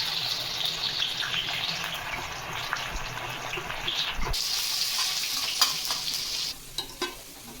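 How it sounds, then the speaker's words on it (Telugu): Onions fry on a high flame for mutton yakhni pulao, a continuous loud sizzle with stirring scrapes, a brief shift midway and a few clanks near the end, no talking. "పులావ్ కోసం ఫ్రైడ్ ఆనియన్స్ రెడీ చేసుకుంటున్నాం"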